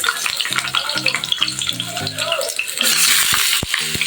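A fish head for murighonto drops into hot oil and fries with a loud, crackling sizzle, steady and close, swelling near the end, with a few thuds and scrapes.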